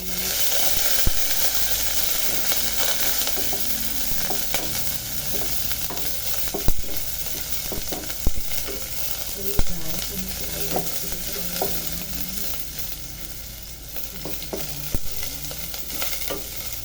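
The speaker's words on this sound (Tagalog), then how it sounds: "ilagay na natin ang ating sibuyas. Mix ang ating curry." Onion and curry sizzling and frying in a pan for a chicken-and-vegetable soup, stirred with scattered scraping and clinking of a utensil over a loud, continuous hiss, close up and without talk.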